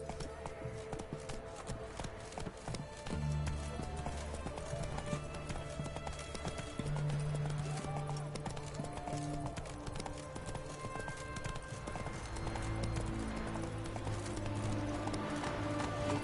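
Steady clip-clop of Roach, Geralt's horse, galloping in The Witcher 3, rapid rhythmic hoofbeats running throughout under game music and a brief spoken line.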